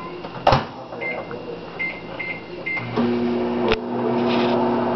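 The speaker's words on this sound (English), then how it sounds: "put it in the microwave for 15 to 20 seconds to soften" A microwave oven hums steadily with a few soft clicks and a sharp clunk near the start, its drone growing slightly fuller toward the end.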